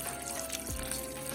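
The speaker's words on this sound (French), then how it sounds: "On va rajouter encore l'eau." Water pours faintly into a Mr Cuisine food processor while harira soup is being made, a soft, brief splash beneath a low hiss.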